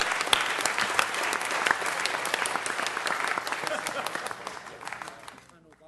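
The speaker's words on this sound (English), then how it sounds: "Let's give them all another round of applause." Sustained audience applause at a Los Angeles city council meeting honoring baseball figures, a dense roar of many hands clapping that holds steady and tapers off near the end.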